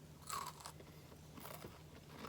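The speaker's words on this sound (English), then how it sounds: "Did you hear the crunch?" Crunchy bite into food seasoned with jalapenos, a sharp crackling crunch near the mic early on followed by a few softer chewing crackles.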